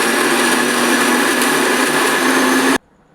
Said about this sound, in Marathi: बघा मित्रांनो, दळून झालाय आपला मसाला.